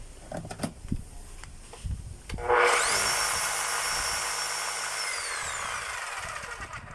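A DeWalt D25811 rotary hammer drill is switched on after a few handling knocks and clicks, then runs loud and steady for several seconds with a high motor whine before beginning to wind down.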